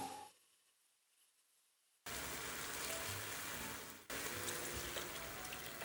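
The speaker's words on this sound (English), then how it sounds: "Now I'm going to add the broth of the can of soup." Canned soup broth is poured into a pot for a hearty stew, a sudden splashing liquid rush that starts after a quiet moment, briefly breaks, then resumes close and steady.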